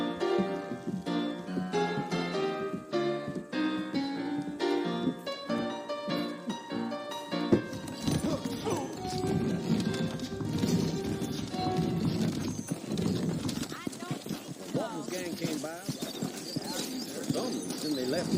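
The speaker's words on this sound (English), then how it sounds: "I got the horses saddled up and ready out front." Saddled horses clip-clop at a steady rhythm in the video game Red Dead Redemption, beneath a musical score and surrounding game ambience.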